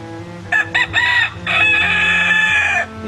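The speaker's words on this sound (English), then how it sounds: "he may make a come hither call" A rooster gives a call to draw nearby hens, a few short clucking notes followed by a longer drawn-out crowing phrase, close and clear over quiet surroundings.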